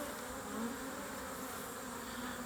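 Honey bees buzz inside a jar during a mite check, a steady close, low drone with no talk.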